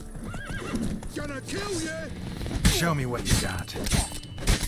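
A horse in the video game The Witcher 3 whinnies several times with sharp, wavering neighs, while hooves clip-clop and thud nearby, loud and close, alongside someone talking.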